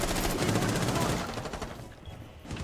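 Rainbow Six Siege gunfire comes as loud overlapping rapid shots and a heavy blast that fade over the last second into quieter game noise.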